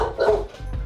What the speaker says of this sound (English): restrain your dog as she tries to murder your neighbor who's knocking on your door